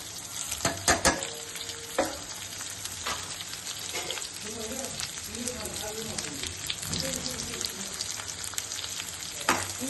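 Garlic and peppercorns frying in a pan for dry fish and brinjal kara kulambu: continuous crackling sizzle with a few sharp clanks of a spoon against metal early on, close and steady, with a voice briefly heard.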